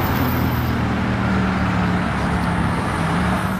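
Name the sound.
Ferrari driving away in Paris traffic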